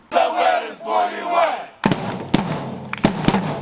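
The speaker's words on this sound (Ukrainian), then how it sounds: "Під вигуки своїх вболівальників рівненський верес заїжджає на стадіон Авангард." Football fans shout and chant as the Veres Rivne team bus pulls into the Avanhard stadium, a loud crowd roar first, then sharp thumps and bangs like firecrackers going off among the cheering supporters.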